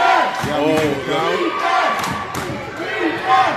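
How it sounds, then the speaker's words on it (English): A football stadium crowd roars and cheers loudly during a championship game, a dense sustained wall of voices with shouted calls and swells, close and continuous throughout. "The crowd is getting into it."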